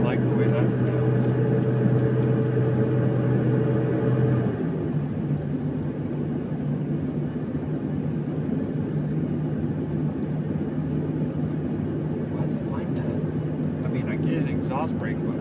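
A big truck's exhaust brake on a steep road drones loudly and steadily, its low rumbling tone shifting pitch partway through, with someone talking over it.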